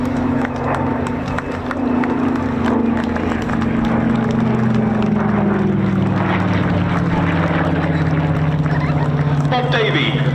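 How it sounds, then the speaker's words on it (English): A Yakovlev Yak-3 UTI propeller fighter flying past at an airshow, its piston engine droning steadily and slowly dropping in pitch as it passes, with crowd noise and clicks over it. "Bob Davey flying the Yak"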